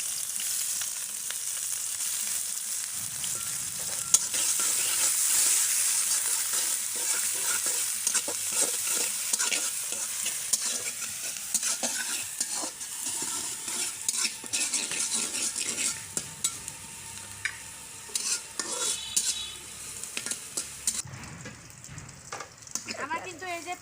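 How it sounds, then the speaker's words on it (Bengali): Chopped onion frying with fish in soybean oil for a spinach and fish curry, a steady loud sizzle running throughout with frequent stirring scrapes and utensil clinks close by, ending in a brief quieter moment. "এখন দিয়ে দেবো পেঁয়াজ কুচি মাছটা কষানোর জন্য।"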